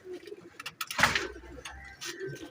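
Teddy pigeons coo softly at a close distance, giving low, brief murmurs mixed with light clattering and rustling in a quiet loft.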